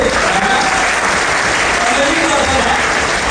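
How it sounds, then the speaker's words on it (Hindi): A crowd at a career opportunity meeting in Bilaspur claps continuously, a loud, even burst of applause filling the space for a few seconds. "उनके लिए तो ताली बजा दीजिए"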